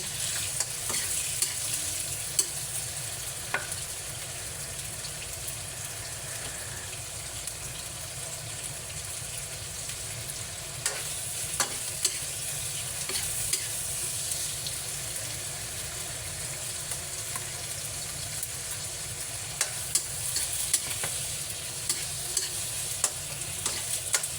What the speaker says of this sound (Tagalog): ginigisa natin guys, lagyan natin siya ng condiment spice or pampalasa